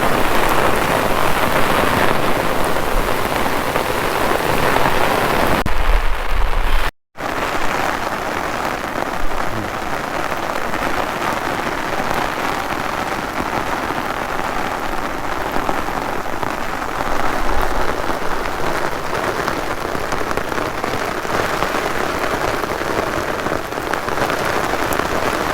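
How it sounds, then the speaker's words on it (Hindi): Heavy rain with strong wind pours steadily over rice fields, a dense, continuous hiss, loud and close, with a brief dropout early on. "बहुत तेज़ हवा भी चल रही है और बारिश"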